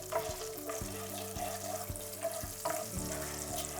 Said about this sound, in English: let's let it sizzle for a few seconds.